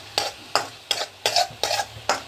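Onions sautéing in oil in a pan for an egg pepper fry: six evenly spaced, brisk stirring scrapes of a spatula against the pan over a faint low sizzle, no voices.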